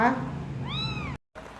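A cat gives a single rising-falling meow near the middle, close and clear, preceded by a voice and followed by a brief silence and faint room sound.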